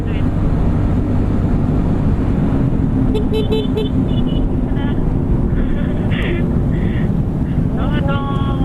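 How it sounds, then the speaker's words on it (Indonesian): Loud, steady roar of a motorcycle or car exhaust at close range, running continuously with wind buffeting, a couple of short horn toots partway through, and voices talking over it. "Wah, knalpotnya."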